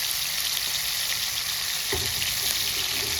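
Steady, close-up sizzling and crackling of pearl spot fish frying in hot oil, with a brief stir or shift partway through and no voices.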